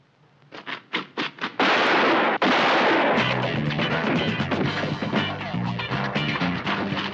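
Gunshots ring out in a crime drama film scene. A few sharp separate cracks open it, then a sustained loud barrage of rapid gunfire runs over music for several seconds.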